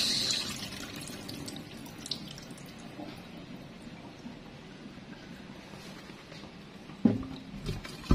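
Rice briefly rinsed in water, faint trickling and sloshing from a tap or bowl, quiet throughout with a couple of small knocks near the end, no talk.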